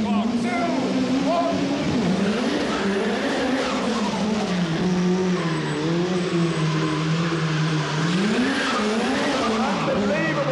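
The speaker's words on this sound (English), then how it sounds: "Unbelievable acceleration out of the turns here from Will." Four-wheel drive rally car in an indoor live action arena show, engine loud and continuous with its pitch repeatedly dipping and surging as it powers out of turns, tires scrabbling underneath.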